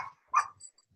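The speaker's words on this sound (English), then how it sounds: "Hey, is that a dog? Is that your dog, Mary?" A dog barks briefly in the background of a group call, one sharp bark followed by a fainter yip, close but quiet with no talk over it.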